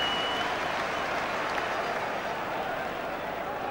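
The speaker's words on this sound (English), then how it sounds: "in place of Darryl Powell, who gets a good hand from the home crowd" Home crowd at a 1992 FA Cup sixth-round football match between Portsmouth and Nottingham Forest applauding a substitution, sustained broad clapping from a large stadium crowd, steady and even throughout, with some crowd noise mixed in.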